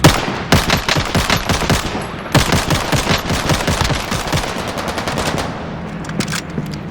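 Gunfire in the Call of Duty video game, including shots from an M1 Garand marksman rifle, comes as rapid, loud cracks in dense bursts that thin out toward the end.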